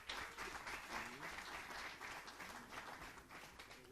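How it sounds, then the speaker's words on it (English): Spectators at a mixed 10 m standing rifle shooting final applaud a Swedish shooter in eighth place, a faint, continuous hall-wide clapping with a voice running over it. "Big applause for Filip Jonsson"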